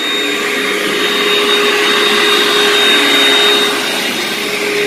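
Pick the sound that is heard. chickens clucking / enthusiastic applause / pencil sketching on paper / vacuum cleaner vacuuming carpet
vacuum cleaner vacuuming carpet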